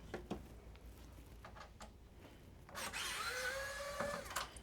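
A power screwdriver removing screws from the cooling fan of a PS5 console, a few faint clicks and taps followed by a louder whirring run of the driver near the end, with no speech.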